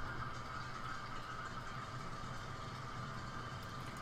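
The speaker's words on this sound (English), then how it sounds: "I created this because I really like the sound of engines, of propeller engines" Modded propeller engine in Kerbal Space Program, a steady droning hum with a whirring mid-range tone holding level and continuous throughout, with no talk over it.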